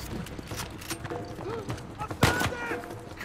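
Gunfire in the video game Uncharted 4, a few scattered shots and one sharp louder burst near the end, heard under game sounds and talk.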